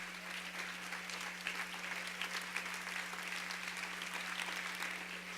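A church congregation applauds continuously throughout, a dense, even wash of many hands clapping at moderate distance, with a steady low hum underneath.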